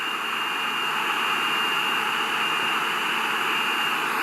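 Simulated Boeing 747 jet engines roaring steadily as the airliner accelerates in SimplePlanes, a dense continuous whine and hiss with a sustained high tone, loud and unbroken with no voices.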